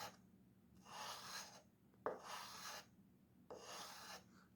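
Wet sandpaper rubbed by hand over the rounded part of a Microtech Stiletto knife, heard as three separate rasping strokes with short pauses between them, close and fairly quiet.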